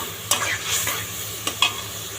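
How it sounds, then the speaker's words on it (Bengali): Meat and chilli sizzle in a pan while a spatula scrapes and stirs several times, close and clear. "মাংসটা মরিচ আমি একসাথে ভাজা নিতেছি"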